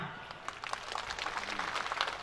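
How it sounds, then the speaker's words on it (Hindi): A crowd claps at a political rally speech in Badhra, a fairly faint, dense patter of hands that continues steadily for a couple of seconds. "जोरदार तालियां"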